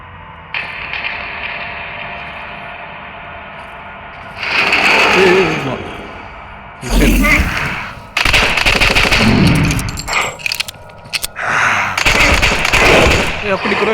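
Pistol gunfire in the mobile shooter game Same Room Same Day, heard as repeated rapid bursts of loud shots over game background noise, alternating with short quieter gaps.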